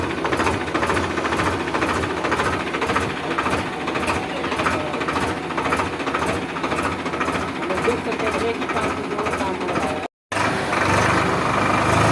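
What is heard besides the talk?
tractor engine running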